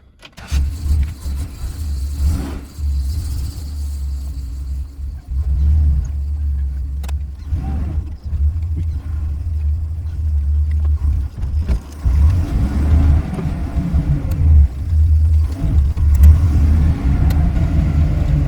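A Ford Galaxie with add-a-leaf reworked rear springs drives along, its engine a low, steady rumble that rises and falls with throttle, with occasional knocks and road noise and a heavier stretch of acceleration toward the end.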